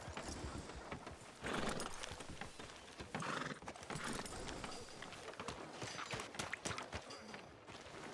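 Horse hooves clip-clop steadily at close range in Red Dead Redemption II, with occasional whinnies and other game sound effects mixed in.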